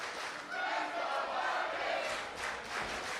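A wrestling arena crowd cheers and roars for a young wrestler, a distant, continuous wash of crowd noise that swells and fades slightly without distinct voices.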